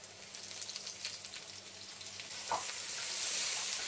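Garlic and ginger sizzle steadily in oil in a hot pan, with a brief stirring clink, and the frying hiss grows louder toward the end.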